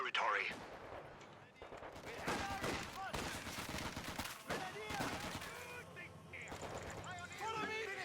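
Rapid gunfire and artillery-style blasts from the Company of Heroes 2 strategy game, dense and repeated through the whole stretch with a voice talking over the battle noise.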